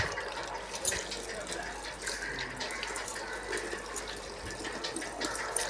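Fish pieces are washed under running tap water, a continuous close splashing and trickling with occasional clinks and handling sounds at a steady moderate level.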